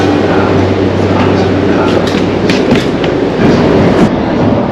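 Train running through Tokyo early in the morning, a loud steady rumble with faint clickety-clack of wheels on rail joints throughout.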